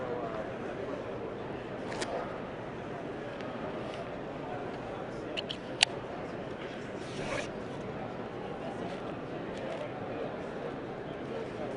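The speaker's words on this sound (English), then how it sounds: "Feed it towards the buckle and cinch. It'll tighten right up." A strap on a K.O.D.E. extraction vest is fed through its buckle and cinched snug, giving a brief rasping zip-like pull with a sharp click near the middle. It stays faint and close over steady background noise, and people talk nearby.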